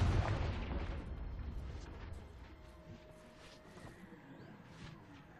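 Confringo spell blast in Hogwarts Legacy on Switch 2: a loud booming burst at the start that rumbles and decays over several seconds into a quieter game ambience, with no talk.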